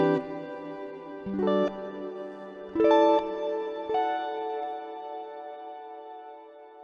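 Electric guitar notes and chords ring through a Fender Marine Layer reverb pedal on its bright, plate-like hall variation 2, each struck chord followed by a long shimmering decay, played alone.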